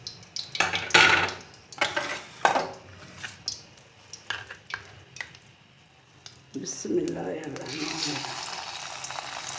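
Potato pakoras frying in hot oil, a fresh batch sizzling steadily after sharp clinks and scrapes of utensils against the pan, with someone speaking briefly over the cooking.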